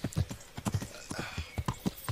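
Horse hooves clip-clop in a steady trotting rhythm in the video game Kingdom Come: Deliverance, close and distinct.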